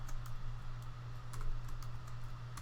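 Quick, light taps on a computer keyboard as text is typed into laser engraver software, soft irregular clicks over a steady low electrical hum.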